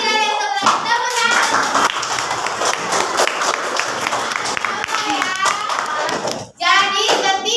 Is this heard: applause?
yes